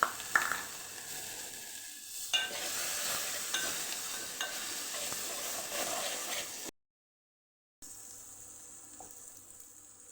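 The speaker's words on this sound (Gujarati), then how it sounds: "હવે આપણે કઢીનો વઘાર કરી દઈશું।" Green chillies and spices sizzle in a hot pan while tempering kadhi, a steady close hiss with stirring, broken by a short silent gap before the frying resumes more quietly.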